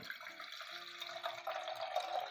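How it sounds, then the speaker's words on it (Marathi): Water poured into a cooking pot to start Hunza tea, a steady close splashing stream that gradually deepens in pitch as the pot fills, with no talking. "सुरुवातीला आपण ह्याच्यात पाणी टाकणार आहोत"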